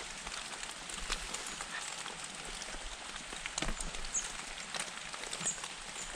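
Steady, dense rain patters over a forest hut in winter, a continuous close hiss of drops on the surface with a few louder splats, and no voices.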